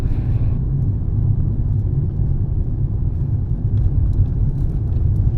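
A Hyundai i20 drives along a road at night, its engine and tyre roar forming a steady, close low rumble that holds an even level throughout, with no voices.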